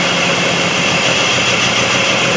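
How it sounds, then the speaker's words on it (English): A 2005 Jeep Liberty 3.7L engine with a multiple-cylinder misfire fault idles during a cylinder drop test, a loud, steady, close engine drone with even tone and no talking. "So I'm just going to do a cylinder drop test right here, cylinder 1, unplug the coil, you hear an RPM drop."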